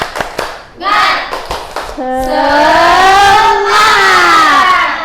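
Students in a classroom perform a rhythmic spirit clap: a series of sharp, separate claps in a pattern, then the group breaks into a long, loud shouted chant together.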